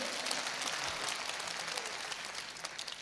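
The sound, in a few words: audience clapping at a poetry gathering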